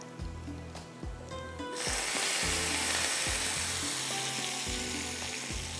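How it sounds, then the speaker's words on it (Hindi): Hot tempering oil poured onto dal bursts into loud, steady sizzling that fills the rest of the clip after a few quieter clinks. "यहाँ पर डालते हैं थोड़ा सा हरा धनिया और इसके ऊपर जाएगा ये तड़का"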